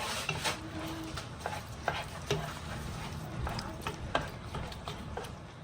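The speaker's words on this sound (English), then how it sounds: "We are now going to mix the macaroni with the cheese." Macaroni being stirred into boiling cheese on the stove, a steady wet simmering hiss broken by repeated soft scraping and clicking strokes of the spoon in the pot.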